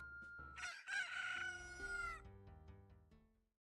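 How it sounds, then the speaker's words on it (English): A video game rooster crows once, then chickens cluck and chatter in short calls that fade out, all quiet and clean with no voices. "Chickens."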